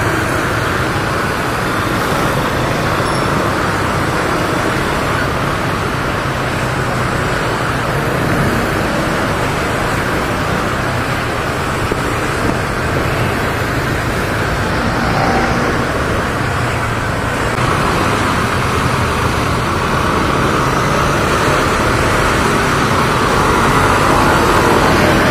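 Road traffic in an Ortigas traffic jam produces a steady, unbroken wash of engine hum and roadway rumble, constant and fairly loud throughout.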